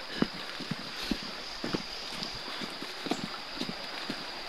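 Hooves of a pack horse that carries loads thud in an uneven, trotting rhythm on the ground, moderately close over a constant hiss of background noise.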